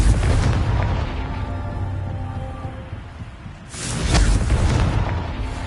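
Blasting spell explosions from Hogwarts Legacy, a fantasy video game: a loud broadband boom opens, fades into a low rumble, then a second burst erupts near the end, both close and heavy.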